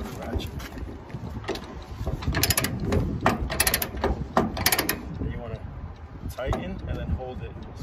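A ratchet binder tightens a chain that secures a 9 ft load, giving a run of rapid clicking strokes in uneven bursts over steady background noise.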